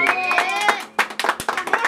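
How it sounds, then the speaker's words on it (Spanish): Clapping at a birthday celebration with mariachis: a singing voice fades out, then a handful of sharp, uneven hand claps follow close by, with voices mixed in. "Un aplauso para él."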